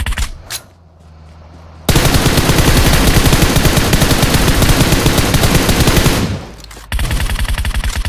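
Rapid automatic gunfire from the PUBG video game on the Erangel map, loud and close, starting after a brief quiet spell, then cutting out briefly before a second burst.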